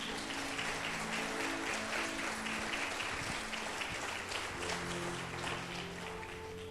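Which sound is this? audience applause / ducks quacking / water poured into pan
audience applause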